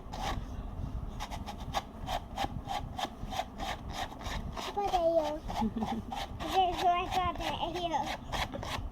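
A brush scrubs a stuffed toy coated in foam cleaner in quick rhythmic strokes, a close, steady scratchy rasping, with faint voices partway through.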